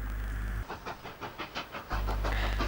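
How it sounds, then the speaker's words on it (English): Former Soviet steam locomotive in Russia or Ukraine in the early 1990s, with a steady low drone giving way to a quick run of about eight rhythmic exhaust chuffs before the heavy rumble returns. "We begin our coverage of Eastern European steam in Russia and the"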